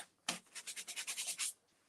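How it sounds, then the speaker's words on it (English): Quick back-and-forth sanding strokes on wood, a rapid rhythmic scratchy rasp lasting about a second, close up, with no talking. "So I've just been sanding quickly over it."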